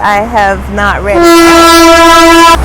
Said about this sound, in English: That's just a train that goes by to inspect the tracks.